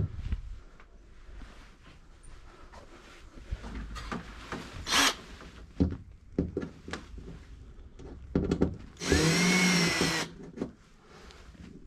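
A power drill driving or removing screws on an antique shop booth gives a loud whirring burst near the end, after scattered handling knocks and rubbing sounds.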